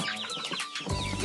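Free-range chickens on a farm give soft, short clucks at close range over a busy outdoor background.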